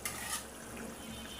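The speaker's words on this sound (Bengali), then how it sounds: "মাছ বাজিয়ে রাখছিলাম, এটা বোয়াল মাছ দিয়ে দিলাম।" Pieces of boal fish frying in a pan of hot oil, a brief bright crackling sizzle with a short stirring scrape, close and steady.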